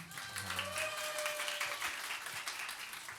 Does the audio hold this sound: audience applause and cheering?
yes